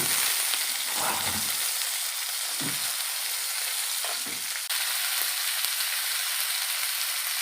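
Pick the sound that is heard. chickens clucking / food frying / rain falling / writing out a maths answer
food frying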